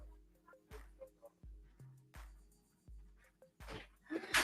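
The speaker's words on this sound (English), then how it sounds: "We have a fresh set of puppies. We got five puppies right now. So Mama is extra barky" A mother dog with a litter of five puppies gives a series of short, sharp barks and yips in an irregular rhythm, about six or seven distinct bursts, moderately close but not loud.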